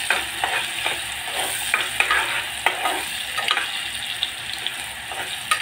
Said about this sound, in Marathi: कांदा टाकल्यानंतर तो परतून घ्यायचा आहे.